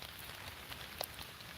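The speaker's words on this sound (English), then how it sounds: "I did not realize it was raining when I got off the live earlier" Rain falls outdoors, a faint, steady hiss of drops with a few soft taps standing out briefly.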